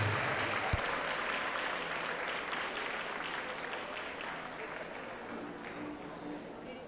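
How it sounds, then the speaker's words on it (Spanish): A graduation audience in a large hall applauds an intermediate technical class group, a broad sustained roar of many clapping hands that holds steady for several seconds and slowly eases near the end. "recibamos un fuerte aplauso al grupo 12 del técnico intermedio"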